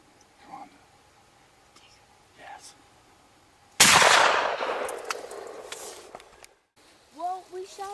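A deer hunting rifle fires a single loud, sharp shot during an early-season doe hunt in Iowa, with a long echoing decay; faint whispers come before it and a few bird-like chirps come after.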